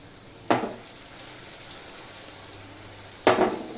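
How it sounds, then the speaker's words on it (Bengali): Spice paste of chilli powder and turmeric with a little water cooking in a pan, two sharp bursts of sizzling a few seconds apart over a faint steady hiss. "দিয়ে মশলাটাকে আমি কষিয়ে নেব"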